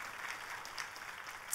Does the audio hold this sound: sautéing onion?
no